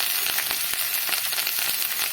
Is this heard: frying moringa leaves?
yes